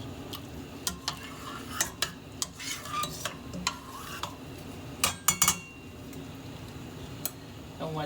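Uncle Ben's rice stirred in a pot with a utensil, giving sharp scattered clicks and scrapes against the metal, fairly close, over a steady low background hum.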